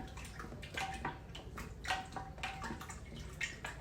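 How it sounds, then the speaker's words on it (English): A cake starter mixture with added sugar gets stirred in a bowl, making wet, sloshing swirls and soft clinks that repeat in an uneven rhythm, close up and alone. "So I'm stirring it a little bit longer than what I would normally stir on a one day"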